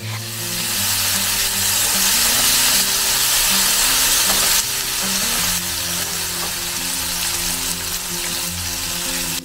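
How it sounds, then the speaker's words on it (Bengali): Tomatoes lightly frying in a pan give off a loud, dense, continuous sizzling hiss over steady background music, with no talking. "এখানে আমি টমেটোগুলোকে হালকা ফ্রাই করে নিয়ে আর তার মধ্যে একটা মশলা দিয়ে দিচ্ছি।"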